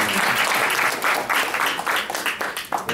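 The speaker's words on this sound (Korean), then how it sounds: "뜨거운 박수로 환영해" Hot applause from a conference audience at an international forum, welcoming a Cypriot parliamentarian and women's federation leader; dense, steady clapping fills the hall throughout, with no voices over it.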